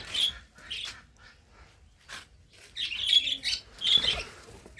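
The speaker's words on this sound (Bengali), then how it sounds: "এখন আমি আমার পাখিগুলোকে খাবার দিব" Pet birds at feeding time give bursts of sharp, high squawks and chirps, close and intermittent with short gaps between calls, no voices.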